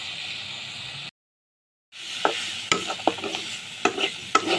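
Close sizzle of onion and garlic frying in oil for a spicy mash, with sharp scrapes and clacks of stirring at an uneven pace, broken by a brief silent gap.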